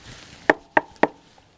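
Three sharp knocks on a wooden beehive, evenly spaced and close by, followed by quiet.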